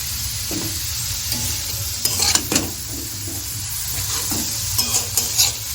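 Chopped vegetables with tomato stir-fried in a pan for chowmein, a steady close sizzle with scraping stirs and a few clinks of utensil against metal, no voices.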